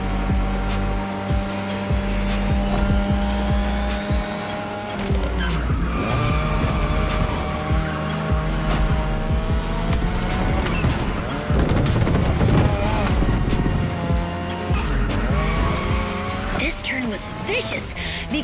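A car drifts in The Crew Motorfest racing game, engine revving and tires squealing loud and continuous in long slides, with voices talking over the noise.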